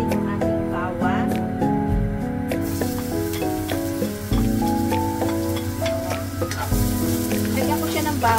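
Garlic frying in a little oil in a pan for a tofu soup with mushroom and crab meat: a steady, close sizzle that keeps going with no pauses, with occasional stirring clatter and no talk.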